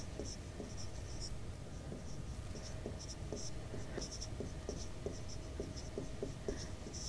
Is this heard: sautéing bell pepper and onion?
no